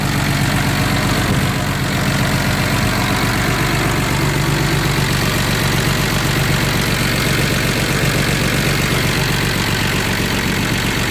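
A 1960 Jaguar's engine idles loudly and steadily up close, a continuous low rumble with an even mechanical chatter throughout.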